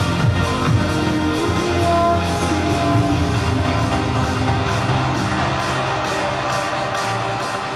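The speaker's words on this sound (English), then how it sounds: "Give a big, big round of applause to Mr. Moses!" A large crowd at a cryptocurrency launch event cheers and shouts continuously in a dense, steady roar, with whoops rising over a sustained wash of noise.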